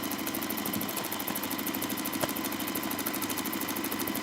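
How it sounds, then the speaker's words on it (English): A sewing machine runs steadily as it stitches a straight seam down the middle of black and orange fabric, a continuous close mechanical whir with a fast regular rhythm throughout. "I'm going to sew down the middle here."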